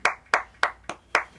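Six sharp hand claps at an even, steady rhythm from a single nearby person during a live remote concert broadcast, each clap crisp and isolated with silence between them.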